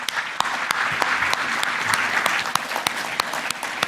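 An audience at a cereal and oilseeds grower conference gives a big round of applause, sustained dense clapping with sharp individual claps standing out, steady from start to finish with little talk.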